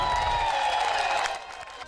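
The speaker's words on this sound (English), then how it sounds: "That was the cheer for 2 women who made baseball history last night in California." A crowd at a minor league baseball game cheers and claps loudly at first, then fades away within about two seconds.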